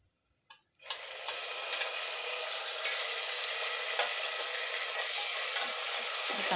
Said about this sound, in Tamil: தக்காளியும் சேர்த்துட்டு நல்லா வதக்கி எடுத்துக்கலாம்.